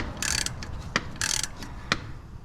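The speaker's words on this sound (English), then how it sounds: "we're just kind of tightening this up, and it's pulling off the balancer now" A harmonic balancer puller is tightened on a Ford Ranger 3.0 V6, giving a few close, sharp ratcheting clicks in short bursts with metallic ticks between them.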